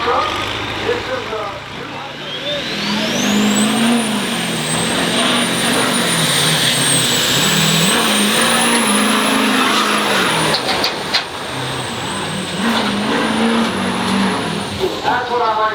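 A truck rolls past at a Plain City street truck pull, its engine droning loudly and steadily with shifting pitch and a high whine riding above, close by, while voices can be heard faintly beneath the noise.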